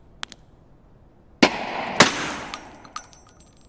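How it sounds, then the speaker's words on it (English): Gunfire in the video game Escape From Tarkov: after a couple of faint distant pops, two loud sharp shots ring out, followed by scattered quieter cracks and ringing game noise. "K is shooting at him right now"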